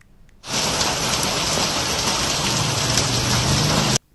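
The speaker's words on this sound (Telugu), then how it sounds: "నగరంలోని అన్ని ప్రాంతాల్లో భీకరంగా వర్షం కురిసింది" Heavy rain pours down on Hyderabad in a steady, dense hiss that starts abruptly, holds evenly for a few seconds, then cuts off.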